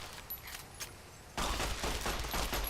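Gunfire in Fallout: Tale of Two Wastelands, a dense burst of rapid shots that starts abruptly partway through and continues loudly to the end, after a quieter stretch of faint ambient noise.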